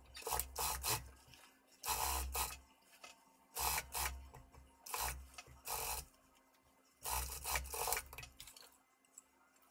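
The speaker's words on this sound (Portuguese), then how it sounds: "agora eu vou lá na máquina reta, vou costurar a minha gola no decote" A straight-stitch sewing machine sews a collar onto a garment neckline, its motor running in short bursts of rapid stitching separated by pauses, fairly close and with no talk.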